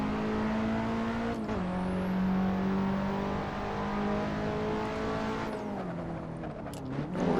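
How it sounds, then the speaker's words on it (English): Nissan S15 Silvia turbo engine pulling hard under acceleration in a race, a loud sustained drone rising through the gears with shifts and a faint whistle, near and alone. "for some reason, the turbo really wants to kick in here"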